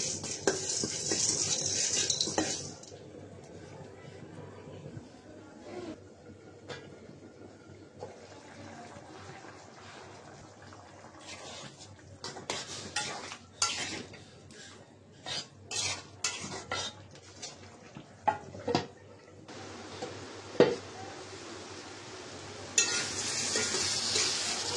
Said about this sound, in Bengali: এলাচ, জিরা, গোলমরিচ আর হচ্ছে যে লং, এগুলো ভেজে নিচ্ছি